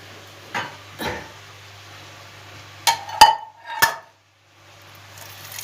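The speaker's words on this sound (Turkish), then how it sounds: "Şöyle bir yanlarına pırasa doğrayayım." A knife chops leeks on a board in a few sharp, separated strikes, with a faint steady hum in the background.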